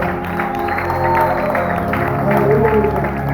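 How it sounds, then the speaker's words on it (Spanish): A church congregation applauds at a Spanish-language service, a steady wash of clapping that swells slightly toward the end, mixed with sustained music or voices underneath. "Dale un fuerte aplauso a Dios."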